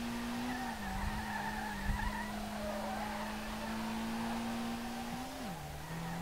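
A car engine held at redline in the racing game Street Legal Racing Redline, with a Nissan R32 set up for drifting. It gives a loud, steady, high-revving drone that dips briefly a couple of times, with no talk over it.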